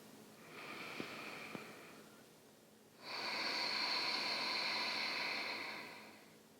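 A slow yoga exhale with a soft, vibrating hum carries steadily through the breath after a quieter inhale. It is close and gentle, held for several seconds before fading.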